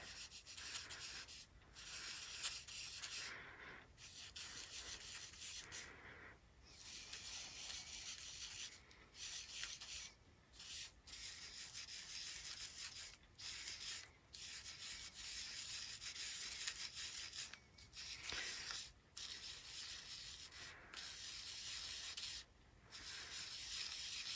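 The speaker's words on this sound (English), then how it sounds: "I'm burnishing the gilding flakes into the heating stick" Gilding flakes are burnished onto a heat-and-stick card surface by hand, giving a close, steady, continuous rubbing and brushing that runs throughout with brief momentary breaks.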